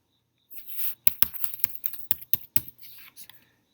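An 8-digit password is typed on a computer keyboard: a brief rubbing rustle, then a quick run of about a dozen crisp, close key clicks with a softer tap or two at the end, and no talking.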